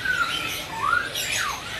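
An Asian pied starling squawks in a bird market, giving harsh, rasping calls in several close, loud bursts that sweep up and down, with no talking over them.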